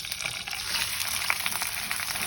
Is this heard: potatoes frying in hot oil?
yes